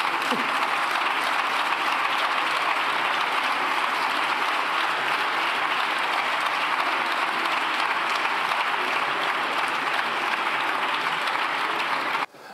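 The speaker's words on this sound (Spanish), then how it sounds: "Pueden aplaudir." Sustained applause fills a parliamentary chamber during a plenary session, a dense, steady roar of many hands clapping at even loudness for about twelve seconds before cutting off abruptly.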